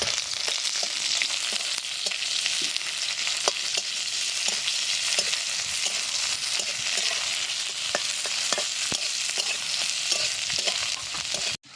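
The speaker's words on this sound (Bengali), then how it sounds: "এবার হালকা করে পেঁয়াজটাকে ভেজে নেব।" Chopped onion with dried red chillies sizzles steadily in hot oil for a Bengali bottle-gourd-greens dish. A dense, even frying hiss continues throughout, with a few faint clicks of stirring and no voices.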